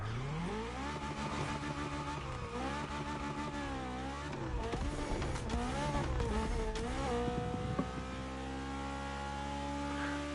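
A racing video game car engine revs and shifts through gears, its tone climbing and falling steadily and close up for the whole stretch, with no talk over it.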